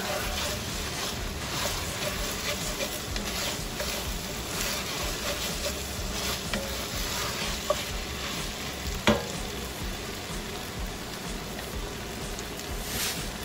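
Chopped garlic sizzles and fries in a pan for making ziti, with a steady crackle and a few sharp clicks of stirring against the pan, close and continuous with no talking.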